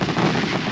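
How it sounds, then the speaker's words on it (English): Fireworks go off at a village celebration at sunset, a brief, dense burst of crackling pops, fairly loud and close, with no voices. "Fireworks!"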